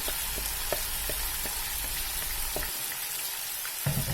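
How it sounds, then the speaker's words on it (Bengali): Marinated chicken pieces frying in a pan with lightly browned onions, a steady close sizzle with occasional light pops and stirring taps, ending in a brief louder burst. "এখন এই মাংসগুলোকে আমি কিছুক্ষণ ভেজে নেব"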